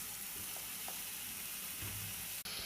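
Chopped tomato goes into frying masala for a patol and prawn curry, giving a steady, close sizzle and hiss of oil throughout with faint stirring, cutting briefly near the end.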